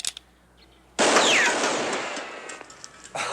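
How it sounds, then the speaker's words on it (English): A single loud gunshot fired from the hip in an old Western setting bursts out suddenly and rings on in a long echoing decay, followed by a fainter second report. "You can shoot from the hip."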